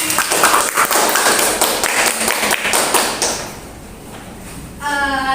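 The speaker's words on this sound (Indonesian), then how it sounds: "tepuk tangan buat Mbak Ovi" Classmates in a Grade 10 high school classroom applaud after a student presentation. It is a dense burst of close clapping for about three seconds that then thins out, with a brief voice near the end.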